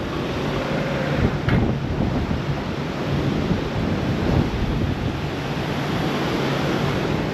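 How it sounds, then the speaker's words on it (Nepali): A powerful mountain river rushing near the Chilime hydropower plant in Langtang, Nepal, a loud continuous roar of churning water with wind buffeting the microphone. "कडा छ खोलाको पावर।"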